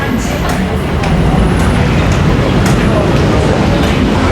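A BTS Skytrain carriage in Bangkok rolling along its elevated track, heard as a loud, continuous broadband rumble and rattle with faint, indistinct voices in the carriage.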